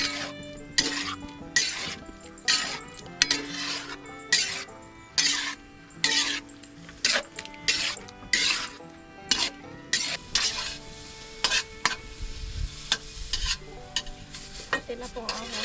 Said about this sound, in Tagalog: Scrambled egg po ito kaya ating hahaluin.